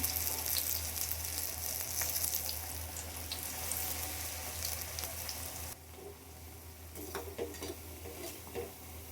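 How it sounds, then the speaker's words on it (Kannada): Onion bhaji batter dropped into a pan of hot frying oil, giving a steady, close hiss of sizzling that runs throughout with small crackles and a slight drop in level partway through. "ಇವಾಗ ಇನ್ನೊಂದು ಸ್ವಲ್ಪ ಹಿಟ್ಟು ಮಿಕ್ಕಿದೆಯಲ್ಲ, ಅದು ಹಾಕ್ತಾಯಿದ್ದೀನಿ ನೋಡಿ."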